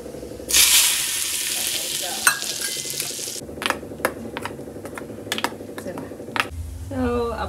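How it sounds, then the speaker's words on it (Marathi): Coconut chutney is tempered in a small pan: a loud hiss of hot oil bursts out, then settles into sharp spluttering pops and clicks, and a voice starts speaking near the end. "एका साईडला मी आता चटणीला फोडणी देते."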